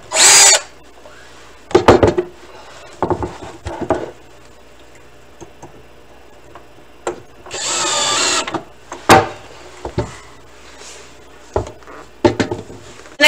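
A power drill bores a hole while a Rev-A-Shelf pull-out waste container is mounted in a cabinet, several short loud bursts of whirring followed by one longer steady run, separated by clicks and handling noises.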